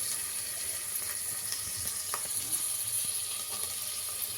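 Ginger garlic paste sizzles steadily in a hot pan while being cooked for fenugreek pulao, a continuous bright hiss with a few faint stirring clicks and no talk.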